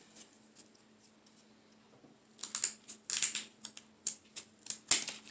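Jumbo wooden craft sticks having their rounded ends cut off, a series of sharp close snips and clicks after a quiet start, irregular and fairly faint.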